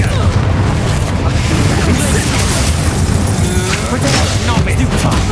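Confringo fire spells blast during combat in Hogwarts Legacy, a dense roaring wall of booming explosions and crackling bursts that runs loud and continuous throughout, with voices calling out among the chaos.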